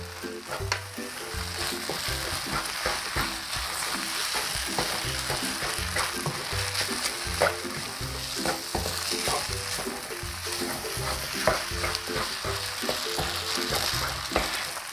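Glass noodles stir-fried in a hot pan with ground pepper, a steady close sizzle with constant scraping and tossing strokes of a spatula running the whole time, no voices.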